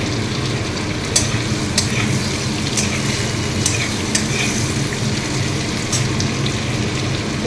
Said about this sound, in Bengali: প্রথমে পেঁয়াজটা আমি ব্রাউন করে ভেজে নেবো